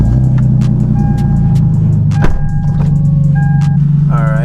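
A car with a freshly repaired exhaust drives off on a test drive, its steady engine hum and road noise loud from inside, with a thump partway through, a few short electronic chimes and a brief voice at the end.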